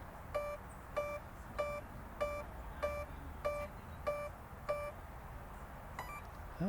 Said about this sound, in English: it looks like we have 8 beeps